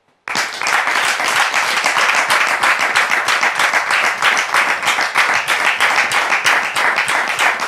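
A studio audience bursts into loud, sustained applause as a guest is welcomed onto a French talk show set, dense clapping starting abruptly and holding steady for several seconds with no talking over it.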